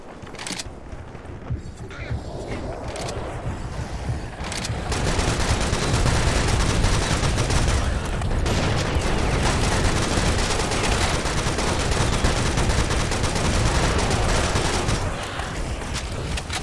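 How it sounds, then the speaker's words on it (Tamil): Machine gun firing in the Serious Sam: Siberian Mayhem game, loud sustained automatic bursts that run almost without pause for over ten seconds, with a few short gaps. "இந்த மிஷின் கன்ல ஃபுல்லா இருக்கு புல்லட்டு"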